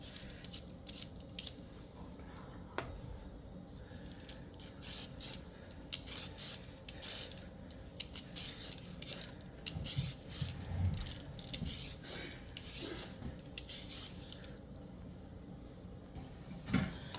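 Something being peeled off during meat pie baking, a close, faint, continuous scratchy rasping and rubbing with irregular crisp bursts, no voices.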